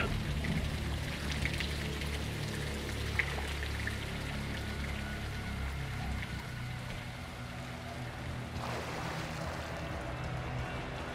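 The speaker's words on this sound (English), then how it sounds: "It's raining fucking hard." Heavy rain pours down in Call of Duty MW2 (2022) as a dense, steady hiss of drops striking surfaces, loud and continuous, with a low engine-like rumble underneath.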